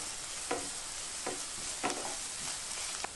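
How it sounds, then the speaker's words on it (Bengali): Chopped onions frying in oil for a tadka sizzle steadily while a spoon stirs them, with about four distinct scraping strokes against the pan, all close up. "পেঁয়াজ কুচি দেওয়ার পর একটু নেড়ে চেড়ে নেব।"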